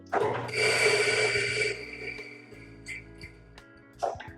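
A burst of loud, steady mechanical grinding of coffee beans at setting 6.8 runs for over a second, then fades into quieter rattling and a few faint clicks.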